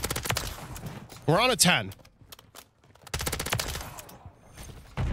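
HRM-9 submachine gun bursts in Call of Duty MW3, rapid automatic fire in short volleys with a sweeping electronic game sound between them, while someone talks over the action.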